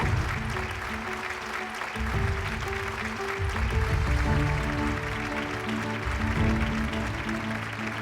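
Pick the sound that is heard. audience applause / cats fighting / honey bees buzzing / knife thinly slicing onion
audience applause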